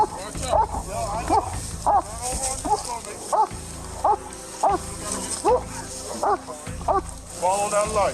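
A police dog barks repeatedly and aggressively during an arrest, loud and close, in rapid bursts, while officers shout commands over the barking.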